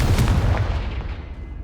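A fiery spell blast in a Hogwarts Legacy game, a loud booming explosion that hits at once with low rumbling punches and then trails off in a fading roar.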